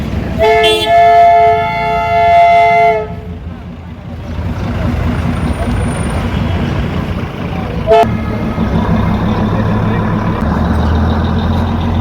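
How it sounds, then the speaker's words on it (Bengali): The Darjeeling toy train on its mountain line sounds a loud, clear horn near the start, then rumbles and clatters steadily as it passes close by, while people talk over the noise. "দেখতেই পাচ্ছ টয় ট্রেন আসছে"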